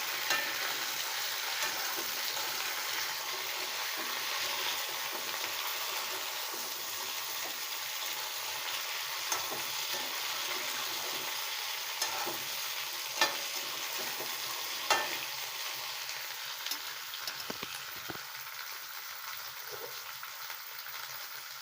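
Onions and chopped drumsticks sautéing in a pan for South Indian drumstick kuzhambu, a steady moderate sizzle heard up close, with a few spoon taps and scrapes against the pan scattered throughout.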